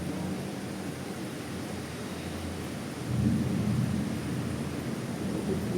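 Thunder rolls through a rainy night storm in Hong Kong, a steady low rumble that swells louder about halfway through over a continuous wash of rain, with no talking.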